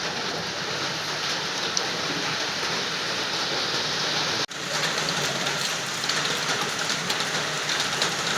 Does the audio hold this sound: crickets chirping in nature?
no